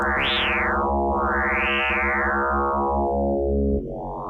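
A sustained FM synthesizer tone from Omnisphere with a rich, metallic timbre, its pitch swooping up and down in slow arcs before an abrupt change near the end.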